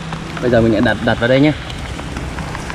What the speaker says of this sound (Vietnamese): Các bạn thông cảm là mưa hơi to nên mà chắc chắn âm thanh sẽ bị ảnh hưởng một chút.